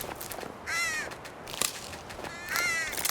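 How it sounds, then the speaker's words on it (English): Crows caw near the College of Winterhold in Skyrim, two bursts of harsh, rasping calls a couple of seconds apart over quiet ambient wind, with a soft click between them. "The sound of crows."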